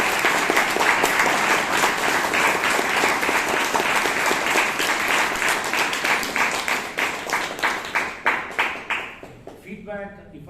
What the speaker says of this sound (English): Ladies and gentlemen, applause thunders.